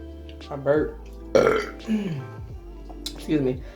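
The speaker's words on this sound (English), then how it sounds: "I burped." A person burps loudly during a mukbang of a steak and shrimp surf and turf seafood boil, a single throaty belch set among chatty talk in a close indoor setting.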